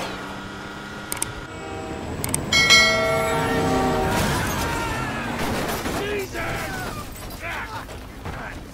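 Game sound from Grand Theft Auto V during a car chase: a clanging, bell-like ringing at a rail crossing with a train rushing past, loud and close, mixed with gunfire-like bursts, engine noise and shouted talk.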